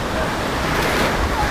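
Ocean waves break and churn continuously along a beach, a steady broadband wash of surf with some wind noise on the microphone, fairly close and even in level throughout.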